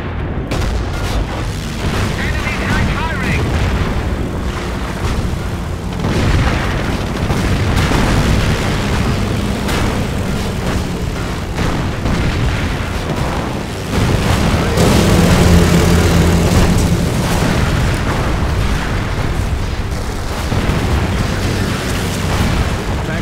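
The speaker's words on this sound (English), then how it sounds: "With this ability, Henschel aircraft will fly by the target location, targeting all enemies within their flight path." Henschel aircraft strafing run with explosions in the Company of Heroes strategy game, a sustained roar of booms, bursts and engine drone, loud and dense throughout with a swell in intensity about two-thirds through.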